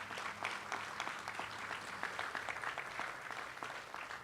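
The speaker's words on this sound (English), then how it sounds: "Let's give them another round of applause" Another round of audience applause at a rapid transit Green Line milestone celebration, a steady, moderately distant wash of many hands clapping without a break.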